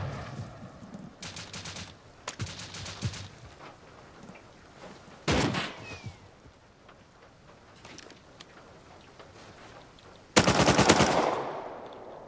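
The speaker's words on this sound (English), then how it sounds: "That guy's AK. Suppressed." Suppressed AK rifle fire in a first-person shooter video game, heard as several short automatic bursts with the final burst loudest and nearest, separated by quieter game ambience.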